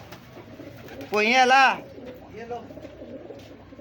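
Pigeons cooing close by in a loft, one loud rolling coo followed by softer murmuring calls, with someone briefly speaking.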